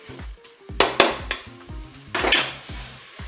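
Tomatoes tipped into a Cookeo multicooker pot for fish soup give several sharp clattering knocks of metal and utensils against the pot, with two louder bursts, heard up close over a low background with no talk.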